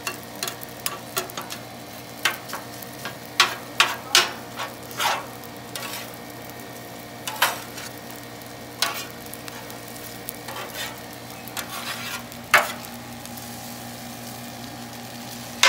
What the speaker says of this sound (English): Just chop that rice down and mix it in there with them.